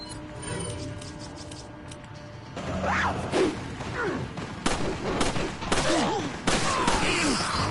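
Weapon fire rings out during combat in the Resident Evil 4 video game: sharp repeated shots with whooshes and crashing impacts, loud and close, mixed with game mechanism clatter.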